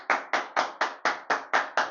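Podcast hosts clap in a steady rhythm, eight sharp, close claps spaced evenly across two seconds with no talking.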